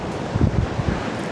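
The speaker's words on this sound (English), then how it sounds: "I'm sorry about the wind noise" Wind buffeting a microphone on a windy mountain summit, a brief low rumbling gust that swells and fades with no voices.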